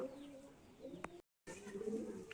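Soft, low pigeon cooing nearby in a quiet setting, with a brief sharp tap partway through and a short gap of silence.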